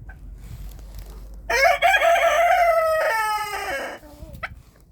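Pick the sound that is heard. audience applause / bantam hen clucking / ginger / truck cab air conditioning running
bantam hen clucking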